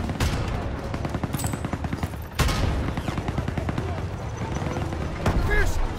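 Machine-gun and tank fire pound the trenches in the Call of Duty: WWII video game, with rapid bursts and heavy booms rolling continuously, loud and close, with shouted voices under the gunfire.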